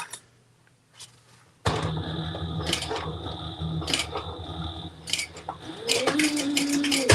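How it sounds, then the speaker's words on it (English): A sewing machine back stitching the card slots of a project starts after a quiet moment, running in a close steady mechanical whir with rhythmic needle clatter, pausing briefly and picking up again, with no talk. "So I'm back stitching at the beginning and the end of these card slots."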